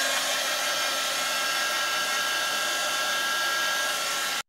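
A hair dryer runs steadily for several seconds, drying paint on an art journal page, a loud close whirring blow that cuts off abruptly at the end, with no voices.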